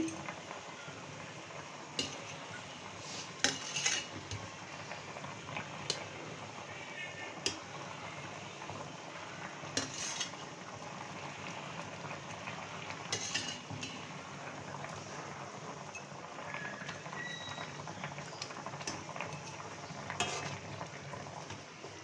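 Hilsa fish pieces going into a pan of potato and pointed gourd curry and being stirred, with a steady frying sizzle broken by repeated spoon clinks and scrapes against the pan, no voices.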